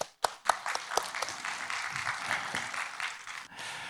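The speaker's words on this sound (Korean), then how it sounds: "다시 한번 큰 박수 부탁드립니다" An audience in a medical school student chapel applauds a lecturer; a few sharp, separate claps open into a steady wash of clapping that thins toward the end, fairly quiet and without talk.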